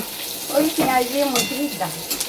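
Dal sizzles and bubbles in a pan on a home stove, a soft frying hiss running throughout while a nearby voice talks over it.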